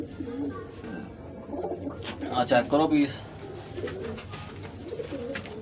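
Pigeons at a Faisalabad breeder's loft, including spotted birds, coo softly in low, rolling calls, with a louder burst in the middle while someone speaks briefly.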